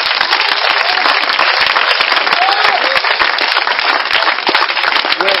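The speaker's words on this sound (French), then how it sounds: "Est-ce qu'on peut acclamer le Seigneur" A church congregation breaks into sustained, dense applause with scattered cheering voices, loud and close, holding steadily throughout.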